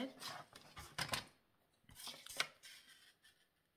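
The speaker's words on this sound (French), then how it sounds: "Donc, on va couper à 26 cm." Sheet of paper trimmed to 26 cm with scissors while making a simple folded greeting card; a few close, crisp snips in quick bursts with short pauses between, no talking.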